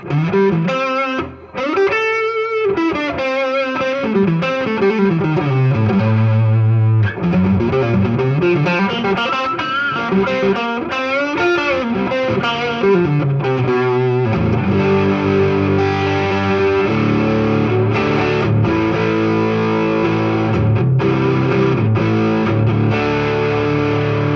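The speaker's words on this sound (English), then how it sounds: "Here's what some distortion sounds like on the Gibson." A distorted Gibson electric guitar plays through a Fender Tone Master Deluxe Reverb amp, loud sustained chords and riffs with heavy, ringing sustain, no voices.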